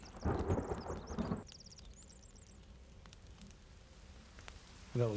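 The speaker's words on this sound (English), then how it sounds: "That was some sudden thunder." Sudden thunder in the survival video game The Forest: a heavy, loud rumbling burst for about the first second and a half, then an abrupt drop to a quiet ambient forest background, with a brief low thump near the end.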